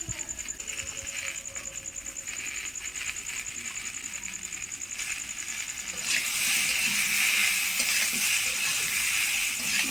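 Mixed vegetables and fried prawns are stir-fried in a pan for a village Bengali dish. A steady close sizzle and hiss runs throughout and grows louder and fuller for the last few seconds.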